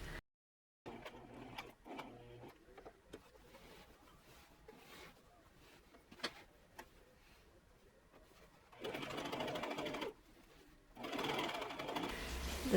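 A sewing machine stitches the slit of a gold kaftan top, quiet handling at first, then two steady motor runs of a second or more each near the end, close and fairly loud.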